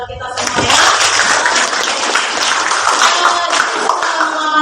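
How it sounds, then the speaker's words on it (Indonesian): A classroom of students clapping together, a dense, continuous patter of many hands that starts abruptly and carries on steadily at close range. "Tepuk tangan buat kita semua ya."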